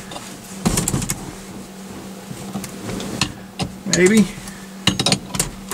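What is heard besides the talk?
makeshift puller popping Ford truck steering wheel off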